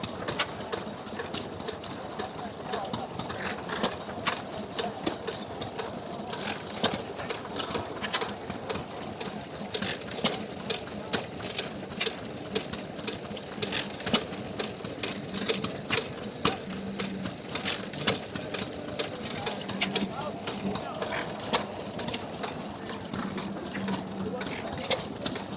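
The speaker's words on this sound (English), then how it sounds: "It's a 4 horsepower grey hit and miss engine made in Detroit in America." A restored 4 horsepower grey hit-and-miss engine made in Detroit runs at an outdoor vintage engine rally, giving a steady rapid chuffing and clattering rhythm with a person talking over it and crowd noise around.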